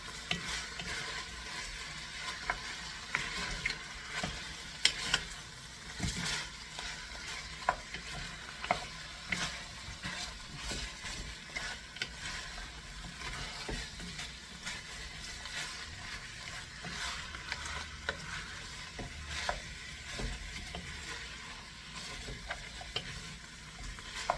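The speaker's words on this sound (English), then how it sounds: "They say stir it in. I said, okay, I'll stir it in, no problem there." Hunkar begendi mixture is stirred in a hot pan, a constant sizzle of frying with repeated scraping spoon strokes throughout, close up and with no one talking.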